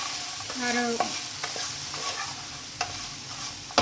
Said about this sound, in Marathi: आणि हे मिक्स करून घ्यायचं. स्लो आचेवरतीच करायचं.